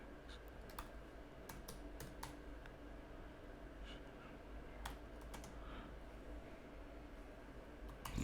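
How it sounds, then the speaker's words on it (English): Someone types on a computer keyboard in bursts of quick, light key clicks with short pauses between them, close by over a faint steady hum. Nobody talks. "let's try to type in like a different title"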